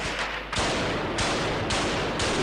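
Army gunfire from combat in the Syrian capital, in the Medan district: a dense, loud, continuous barrage of overlapping shots with rapid bursts and no pauses.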